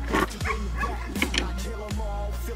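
A dog barks repeatedly near a wooded spot during rear-axle suspension work on a car, giving three or four loud, close woofs in quick succession with some yipping, heard alone.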